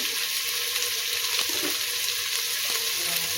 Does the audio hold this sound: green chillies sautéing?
yes